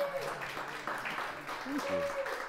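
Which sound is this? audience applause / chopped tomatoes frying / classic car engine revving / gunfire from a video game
audience applause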